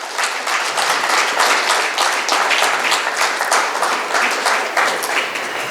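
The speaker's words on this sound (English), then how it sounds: "calls for another round of applause" Steady, full audience applause at the GSB Startup Angels event at Kashi Math, Malleshwaram, with dense, continuous clapping from a large crowd that holds at an even loudness from start to finish.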